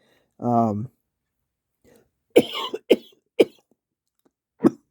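A man coughs several times in short, sharp bursts after a brief vocal sound, each cough close and loud with quiet gaps between.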